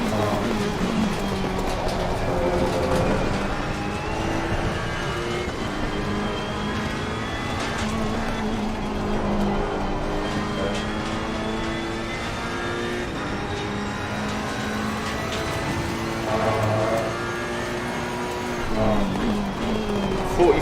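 A Ferrari 488 EVO race car engine in Assetto Corsa Competizione, droning steadily at high revs through a racing lap with shifting pitch sweeps, loud and constant, with faint talk underneath.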